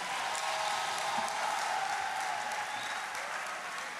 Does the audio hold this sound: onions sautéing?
no